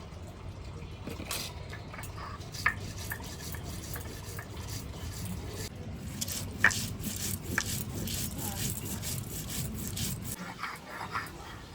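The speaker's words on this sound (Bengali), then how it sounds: "লঙ্কা জিরে মাছের জন্য বেটে নিচ্ছি" Chili and cumin are ground into a spice paste on a grinding stone, giving a continuous rough scraping and rubbing with a few sharper knocks, close by and moderately quiet.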